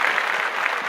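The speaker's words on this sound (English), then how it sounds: "Round of applause for the flat cabbages all around the world." Dense, steady applause from an audience fills a brief burst, a continuous wash of clapping at fairly loud level during a live show, with no voices standing out.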